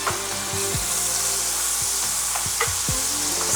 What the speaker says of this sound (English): stir it, fry it a little bit, onion that it goes in.